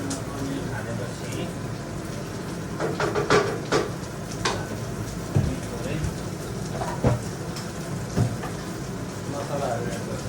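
Heavy rain pours steadily in a dense, close wash of noise, with scattered louder knocks and thumps and a faint voice somewhere in the background.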